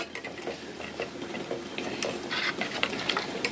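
Nandini payasa mix powder being stirred into hot water in a pot, a steady close scraping and light clinking of a spoon against the vessel with soft bubbling underneath, no talking.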